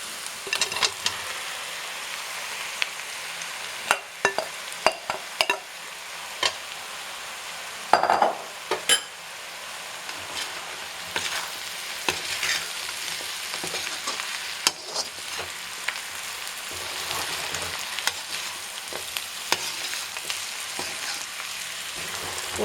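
Chicken sizzles and fries in a hot pan with chilli and spices, with steady crackling and repeated sharp scrapes and clatters of stirring throughout, close and clear with no talk.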